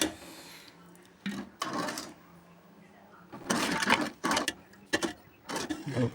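Sugar is stirred into semiya payasam in a pot, giving bursts of close scraping and rubbing strokes separated by short quiet gaps.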